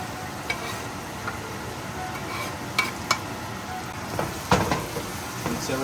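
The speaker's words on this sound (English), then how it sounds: "Mix everything together." Taco mincemeat filling with thinly chopped green chilies stirred and frying in a pan, a steady sizzle with scattered scraping and clinking stirs throughout.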